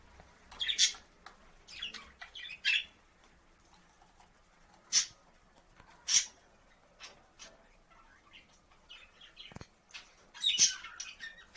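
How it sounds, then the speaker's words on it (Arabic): Budgerigars and goldfinches in a cage give scattered sharp chirps and short tweets at irregular intervals, some close and bright, over a quiet background. "في الطيور اللي عندنا في السجنة"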